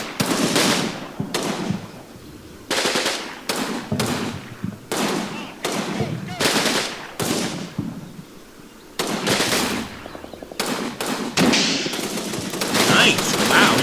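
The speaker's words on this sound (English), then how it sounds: "Wow, we just fired an RPG over there, that building. Well, not an RPG, excuse me, a bazooka" Bazooka rounds and gunfire in Combat Mission Normandy, a World War II Normandy battle, striking a building: a rapid string of loud broadband bursts and cracks spread through the clip, some clustered like volleys, with a sharper blast near the end.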